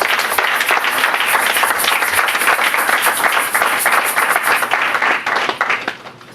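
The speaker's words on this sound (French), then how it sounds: "Et nous bénissons notre Dieu en applaudissant très fort pour sa parole." A church congregation claps loudly and steadily in unison for several seconds, the applause thinning out near the end.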